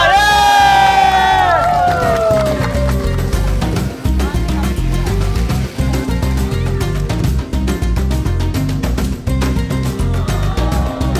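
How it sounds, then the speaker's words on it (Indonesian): A crowd cheers and whoops loudly at an Indonesian community event held by the military and civilians, with shouting voices that stay dense and sustained throughout. "Tepuk tangan untuk badan kita."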